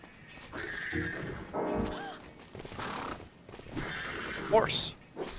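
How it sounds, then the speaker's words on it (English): A horse neighs and whinnies in the horror video game Withering Rooms, set among game sounds and a voice talking over it, with a short bright call rising near the end. "Horse."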